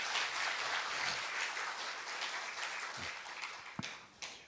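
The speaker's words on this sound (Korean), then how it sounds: "여러분 다시 한번 박수로 환영해 주십시오" Audience applause welcoming a guest speaker at a church event, a moderate wash of clapping that tapers off with a few last scattered claps.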